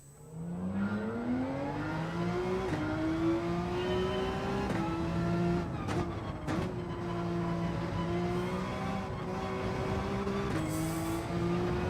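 A Porsche race car in Gran Turismo 7 revs hard through its gears, the engine note climbing steadily, with brief drops at each upshift before it rises again, loud and continuous with no talking.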